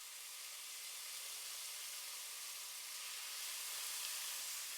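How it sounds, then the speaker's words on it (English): Soft, steady sizzling hiss of marinated beef cubes frying in hot oil, faint and continuous with no voices. "Add the marinated beef cubes to the oil one by one and allow them to sizzle in their juices"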